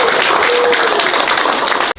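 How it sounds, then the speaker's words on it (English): Dense, loud audience applause from a real estate agents' gathering in Cabo San Lucas, a continuous wash of many hands that cuts off abruptly at the end. "Give everyone a round of applause just for showing"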